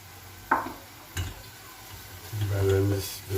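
Chopped peppers tossed into minced meat frying with onion and garlic for karnıyarık, giving a sudden sizzle burst followed by stirring scrapes and a steady, louder frying hiss near the end.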